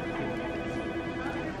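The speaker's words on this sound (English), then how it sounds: "the dang phone's ringing" A phone rings during a shopping trip in a store, its steady electronic ring tone continuing through the short stretch with a faint murmur of background noise.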